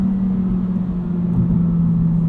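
Steady hum of a 2022 Honda Civic Si engine while driving at night, a loud, continuous low drone with a fixed pitch and no talk over it.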